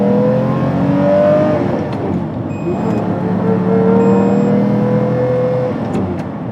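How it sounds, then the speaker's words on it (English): A 2003 Lamborghini Murciélago V12 with a five-speed exhaust system accelerating hard, loud rising engine notes climbing through gears with brief dips between shifts, close and dominant. "it even brings out much of that crescendo, the theater that you get from that V12 engine."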